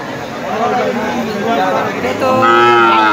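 A cow moos loudly and at length at a busy livestock market, the long drawn-out bellow rising toward the end over a background of crowd murmur.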